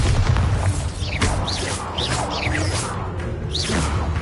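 Bombarda blasts from Hogwarts Legacy boom and rumble one after another, with swooshing spell whooshes between the heavy low explosions, loud and dense throughout.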